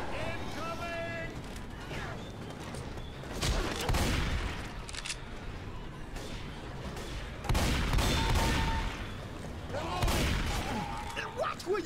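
Gunfire from a zombie co-op shooter, Left 4 Dead 2, in a versus match: bursts of loud shots and fusillades come and go across the stretch, with busy game noise and voices talking around them.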